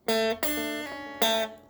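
Four ringing guitar notes of a reggae riff with a pull-off, played cleanly and close in an even, unhurried rhythm, each note sustaining into the next.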